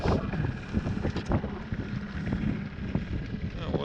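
The engine of a small motorboat runs on the water as the boat heads home from Roņu island. Its steady drone is mixed with heavy wind buffeting against the microphone.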